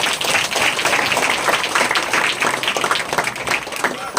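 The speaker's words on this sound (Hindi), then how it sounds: "तालियां बजा दे माता जी के लिए।" A church congregation claps together for an older woman, a loud, close, steady wash of clapping lasting several seconds, with voices mixed in beneath.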